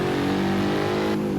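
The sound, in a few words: BMW M5 E60 engine revving in video game CarX Street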